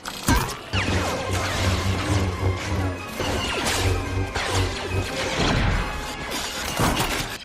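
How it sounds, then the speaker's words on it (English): A hulking Super Battle Droid smashes a B1 battle droid aside in Star Wars: Attack of the Clones, loud metallic crashes and shattering clanks bursting repeatedly over a busy battle din with a low droning hum. "Super Battle Droid just smashing the B1 out of the way"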